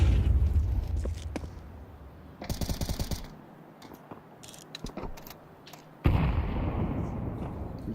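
Grenades burst on the silo during a professional Counter-Strike match, FURIA against Team Liquid in ESL Pro League. Heavy booming blasts hit at the start and again near the end, with rapid crackling gunfire in between.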